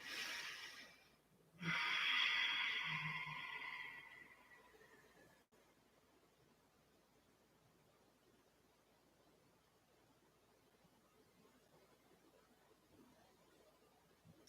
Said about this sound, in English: Take deep inhales and exhales.